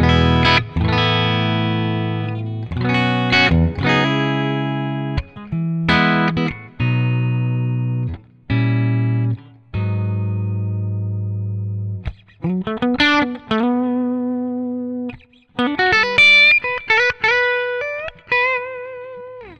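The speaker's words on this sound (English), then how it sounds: "I don't normally use the bridge pickup on a like a clean sound like this" Electric guitar played through a handmade bridge humbucker inspired by the EVH 5150, in a clean tone: a series of ringing chords and single notes with pauses between phrases, ending in quicker higher lines, loud and without voices.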